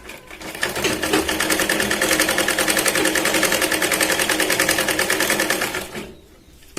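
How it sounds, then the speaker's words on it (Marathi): An electric sewing machine stitches a strip for a katori blouse with a rapid, even mechanical chatter, loud and close, for about five seconds before winding down and stopping. "परत एक आपण कडेने इथे पट्टीला शिलाईन लावून घेऊया."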